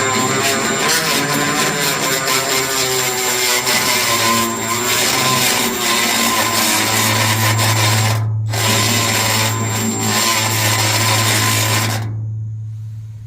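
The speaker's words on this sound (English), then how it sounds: "Okay, I just grounded away this area right here." Power tool grinding paint off a steel utility trailer frame to bare metal, a loud continuous whine held steady for about twelve seconds with one brief break, then winding down at the end, no talking.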